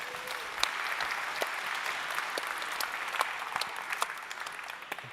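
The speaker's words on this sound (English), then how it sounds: "round of applause for the organizers." A conference crowd at a web performance event applauds the organizers, with dense, steady clapping that holds at an even level and has sharper individual claps standing out.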